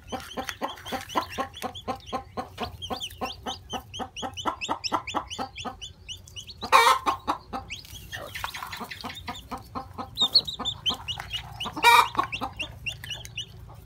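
A hen keeps up rapid, rhythmic clucking as she hatches her eggs, close and steady, broken by a couple of louder, sharper squawks.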